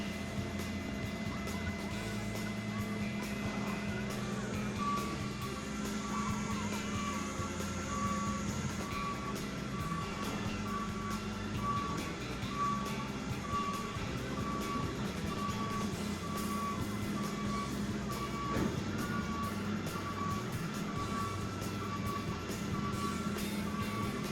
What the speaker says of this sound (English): The other side of the truck opens, emptying all of the paper recycling to the tipping floor.